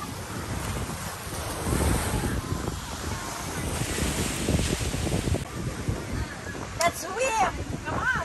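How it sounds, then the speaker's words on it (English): Strong wind buffets the microphone while waves wash in at a windy beach under heavy clouds, a constant roaring blend with a voice talking over it. "This time it's windy here in Biton Beach."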